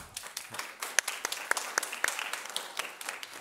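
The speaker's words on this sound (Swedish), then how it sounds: "Ge honom en applåd." An audience applauds a guest speaker at a Swedish infrastructure talk, a short burst of scattered, moderately quiet hand claps with uneven rhythm, heard alone without talk.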